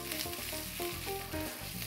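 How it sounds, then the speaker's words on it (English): Quinoa sizzling in a hot oiled pan, a quiet, steady frying crackle with a faint rhythmic pulse, heard alone without speech. "You'll hear a little sizzle and you give the pan a little shake."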